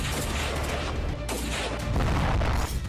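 Combat in Balochistan, Pakistan, where Baloch fighters blow up an army vehicle: a loud, dense, continuous barrage of gunfire and blasts with no pauses.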